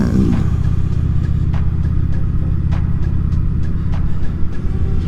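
Honda Shadow motorcycle cruising on an interstate, its engine a loud, steady low rumble heard up close with constant road and wind noise.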